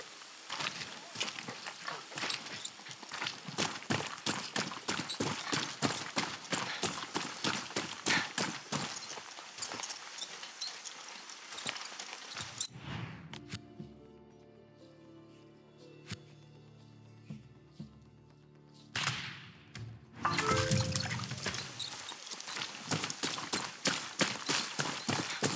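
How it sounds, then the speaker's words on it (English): Rhythmic clip-clop of horse hooves galloping in the video game Far Cry 6, loud and fast, breaking off briefly midway to a quieter stretch before the pounding hoofbeats resume. "Instant horse."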